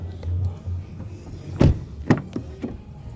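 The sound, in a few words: car electric windows operating, Volvo XC60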